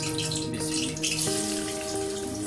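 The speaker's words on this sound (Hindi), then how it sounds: "हमारा तेल जो है गर्म हो गया, और मैं इसके अंदर प्याज डाल दूँ" Chopped onions hit hot oil in a frying pan for Lahori chickpea curry, giving a steady, close, broadband sizzle with a faint humming tone running through it and no voices.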